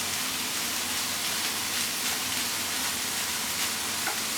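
Food sizzles and fries steadily in a hot pan, a continuous close crackling hiss with no talk over it.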